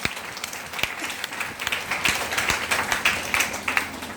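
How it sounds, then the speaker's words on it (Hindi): An audience at a farmers' seminar in Mandla claps for the farmers, giving a sustained round of mid-sized crowd applause with sharp individual claps standing out for several seconds, no voices over it. "एक बार हम चाहेंगे कि हमारे सभी किसान भाइयों के लिए एक बार अब तक दिल खोलकर शानदार ताली बजाएं साहब"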